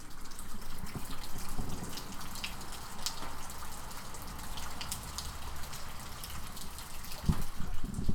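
Continuous rain falling and splashing nearby, with a watery gushing texture and scattered drips, steady and moderately loud, no talking.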